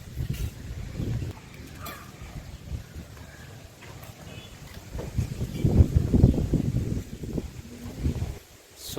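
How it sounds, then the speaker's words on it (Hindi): Cool east wind blowing outdoors beside a banyan tree at a Vat Savitri puja in Mithila, a steady rushing buffet on the microphone that swells louder midway, with no talk. "पूर्वा हवा चल रही है, ठंडा ठंडा मौसम है"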